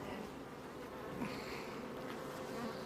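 Honey bees from a strong colony buzz steadily during a hive inspection, a soft, continuous drone with no talking over it.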